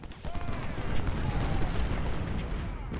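Artillery fire in Ultimate General: Civil War at the Battle of Malvern Hill: continuous rumbling cannon booms and scattered musketry blend into a dense, steady battlefield roar.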